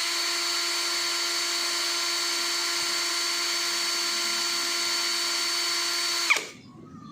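An NRT Pro DC743 cordless brushless impact drill runs at speed setting 2 with a steady, high whine that holds for about six seconds and then cuts off abruptly, leaving a short tail of quiet.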